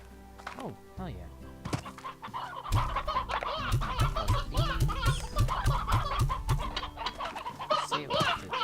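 Chickens in the video game Slime Rancher cluck and squawk in a dense, busy run of calls, loud and steady throughout with a low hum beneath.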